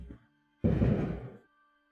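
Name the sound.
fireworks going off near the speaker's house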